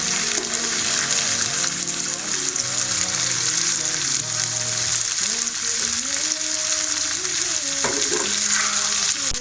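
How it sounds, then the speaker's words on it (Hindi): Potatoes and onions frying together in a pan for a cheese omelette, a loud, dense, continuous sizzle heard up close with faint tonal background sound and no talking. "जब तक हमारे आलू और प्याज फ्राई हो रहे हैं"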